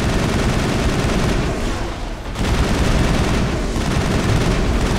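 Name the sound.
gunfire in a video game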